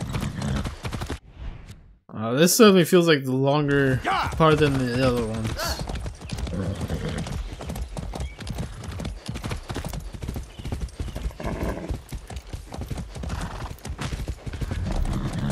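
Steady clip-clop of horse hooves ridden in the Far Cry 6 game runs throughout, with a horse whinny near the start and someone talking over the trotting rhythm.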